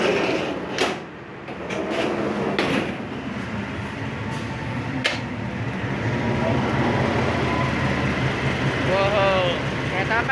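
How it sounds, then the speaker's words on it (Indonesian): A train at Kroya station, its steady rumble and rolling noise filling the platform, with sharp clicks and a brief squeal near the end, under continuous station and passenger sound. "Wow, kereta apa ini?"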